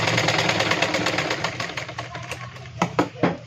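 A sewing machine stitches slanted pleats on a 38-inch blouse, a fast mechanical whir running steadily then breaking into a few short bursts near the end.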